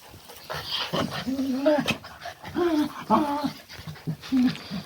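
A dog pants and whimpers close by with short, rhythmic breaths and whines, over a faint background hum.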